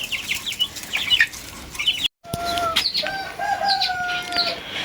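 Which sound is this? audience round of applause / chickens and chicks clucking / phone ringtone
chickens and chicks clucking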